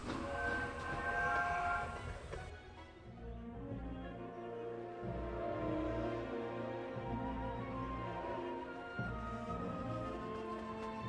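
A train rolls toward Hogsmeade station in the Lego Harry Potter video game, with a horn or whistle sounding at the start before a steady, rhythmic rumble of wagons carries on throughout.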